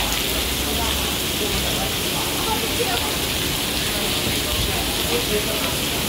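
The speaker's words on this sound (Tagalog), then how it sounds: "Ang lakas ng ulan." Heavy rain pours steadily, a dense, unbroken hiss of downpour drumming on surfaces, loud and close throughout with no pauses.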